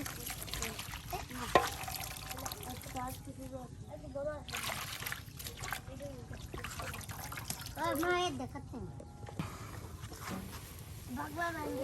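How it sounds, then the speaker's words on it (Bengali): Cold water splashes and trickles into a pan of shrimp curry with water lily stems while a person talks over it, the pouring steady and close. "পানি দিয়া ঠান্ডা পানি দিয়া দেওয়া হইতেছে"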